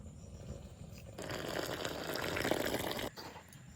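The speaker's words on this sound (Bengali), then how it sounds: "ঠান্ডা জল দিয়ে আস্তে আস্তে দেবো আর মাখাবো।" Cold water pours in a faint, steady stream for about two seconds into flour for dough, then stops abruptly, with quiet kitchen background and no talk.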